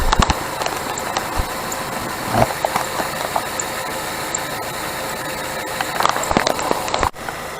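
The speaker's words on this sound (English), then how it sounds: "I'm going to cut it off so you can hear the alternator." A 2003 Nissan Altima engine idling with its alternator running: a steady, close mechanical hum and whine with faint rattles and a few sharp clicks, ending in a thud.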